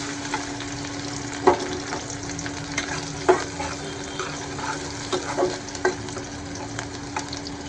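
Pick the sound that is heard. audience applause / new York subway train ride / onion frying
onion frying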